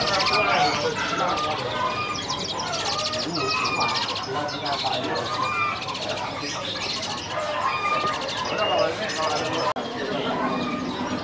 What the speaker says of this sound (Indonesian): Ya, burung kapasan Jawa.